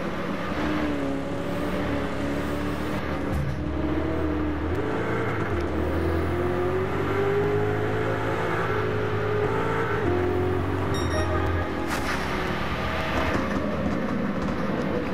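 A Lamborghini Urus is driven in Gran Turismo 7, its engine a steady, close drone with rising and falling pitch and stepped shifts in tone like gear changes, running throughout with no talking.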